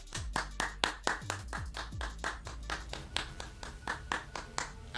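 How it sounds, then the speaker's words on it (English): Steady, fairly sparse hand clapping, like a small group applauding at an even rhythm, played over World of Warcraft content. It is moderately loud and carries no voices. "Can we have a round of applause,"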